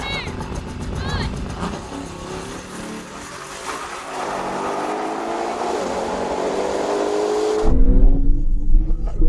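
Kia and Ferrari V12 cars accelerating side by side in a race, a loud continuous engine roar building steadily with rising revs, heard close from inside under a person's talk, ending in a heavy low rumble.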